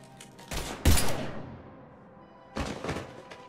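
Gunfire in the video game Mass Effect 3, with a few sharp, loud bursts of shots: one around the first second and another cluster near the end, separated by a lower background rumble.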